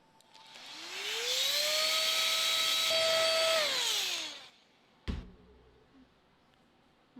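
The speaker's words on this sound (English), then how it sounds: "I like using an air compressor and drying my makeup" An air compressor blows a loud, whining jet of air to dry freshly applied makeup for about four seconds, its pitch rising then falling as it shuts off, followed by a sharp click.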